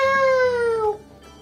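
A human voice imitates a cat with one long, drawn-out meow that slides downward in pitch and then fades, close and clear.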